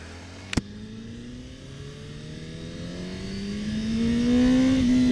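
A 2021 Honda CBR1000RR-R SP sport motorcycle engine idles, then revs up in a steady rising whine that grows louder toward the end, with a brief sharp click near the start.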